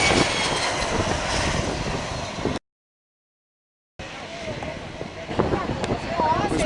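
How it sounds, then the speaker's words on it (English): A huge passenger jet arriving from JFK roars low over a beach as it comes in to land at St. Martin, a loud sustained engine rumble that cuts out briefly and returns, with people talking over it. "This plane right here coming from America. Coming from JFK. This thing is huge!"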